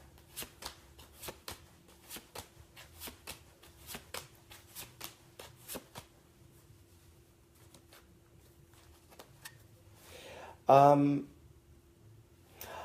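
Tarot cards are handled and shuffled in a quick, evenly spaced run of soft snaps and flicks close by. The cards then go quiet, and a short tonal vocal sound follows near the end.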